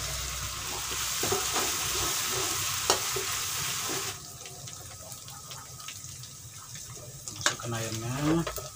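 Lemongrass stir-frying in a pan for mie ayam: a steady hiss of sizzling with scattered scraping and tapping of utensils, loud at first then quieter and more broken, close by.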